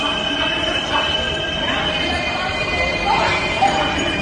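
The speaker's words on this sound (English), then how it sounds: "You hear the subway in the background." A subway train rumbles in the background with wheels screeching and squealing, a continuous rattling din from nearby rails.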